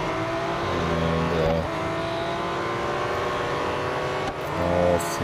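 Race car engine in the racing game Real Racing 3, a steady loud drone that shifts pitch at two gear changes, heard alone without talk.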